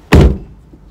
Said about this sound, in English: Mom, close the door.